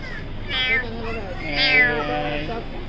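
A cat meows twice up close, each call rising then falling, with a faint background hum and no other sounds.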